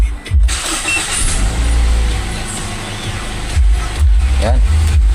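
A 2010 second-generation Toyota Vios with a freshly cleaned throttle body cranks with short bursts, catches and settles into a loud, close idle, with a brief second surge of revving near the end.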